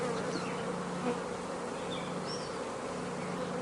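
Honeybees buzz steadily around an open hive during a frame inspection, a dense close hum of many wings with a few individual bees whining past near the microphone.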